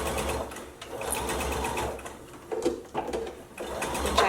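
A sewing machine runs steadily, its needle clattering in a fast continuous rhythm, with brief pauses and restarts near the end.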